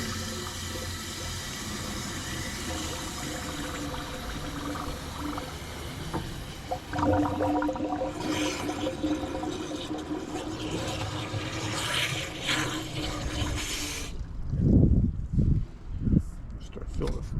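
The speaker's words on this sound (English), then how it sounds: "Now we got this hose up here. Should be able to fill it all up." Water from a hose runs into the radiator of a Deere 750 dozer, a steady splashing fill with gurgling that turns louder and bubbly near the end, with some talk over it.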